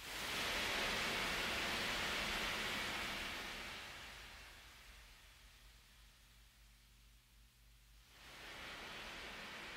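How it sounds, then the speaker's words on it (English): Ocean waves crash upon a beach in a Nektar progressive rock recording: a broad roaring surge that swells, slowly recedes into a quieter hiss, then rushes back in loudly near the end. "end it with the ocean sounds crashing upon the beach, the waves"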